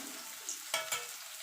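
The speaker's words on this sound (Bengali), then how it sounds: "দেখুন বন্ধুরা, পনিরগুলো ভাজা হয়ে গেছে" Paneer cubes fry in oil with a soft, close sizzle, punctuated by two quick stirring scrapes in the pan, with no voices.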